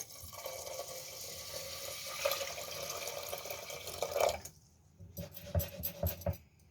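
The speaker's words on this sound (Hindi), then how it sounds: "कुकर में डालने के बाद इसमें हम पानी डाल देंगे।" Water pours steadily into a metal pressure cooker holding urad dal and rice for khichdi for a few seconds, then stops, followed by light clinks and drips.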